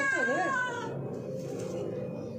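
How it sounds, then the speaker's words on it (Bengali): A cat gives a loud, wavering meow close by, its pitch sliding up and down, then trails off into a quieter, lower yowl. "কি আরম্ভ করেছে এই বিড়াল"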